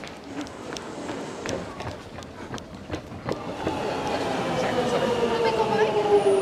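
A London Underground train running, with a steady rumble building and rising whine under footsteps, faint clatter and occasional voices.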